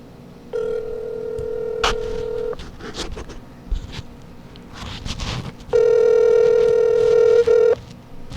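A smartphone places a call, giving two long, steady electronic ringback tones separated by a gap of quieter clicks and faint background noise.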